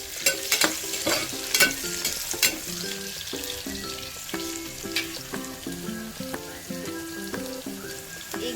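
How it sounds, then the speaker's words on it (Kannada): Onion frying with salt in a pan while cooking village-style liver biryani gives a continuous close sizzle with scattered crackles and stirring, and a tonal melody runs underneath; no one speaks. "ಆನಿಯನ್ ಸ್ವಲ್ಪ ಗೋಲ್ಡನ್ ಬರೋವರೆಗೂ ಸ್ವಲ್ಪ ಫ್ರೈ ಮಾಡಬೇಕು."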